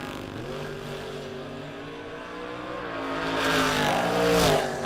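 Drag racing engines at a race event, including a Chevrolet Vega and an S10, droning with a steady harmonic tone that swells louder toward the end as a car revs and pulls away.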